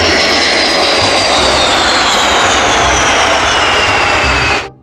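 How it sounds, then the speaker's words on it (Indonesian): Loud, steady roar of a fighter jet engine fills the scene at close range, a dense broadband rush with faint whining tones, cutting off abruptly at the end. "di sebelahnya sini ada pesawat tempur"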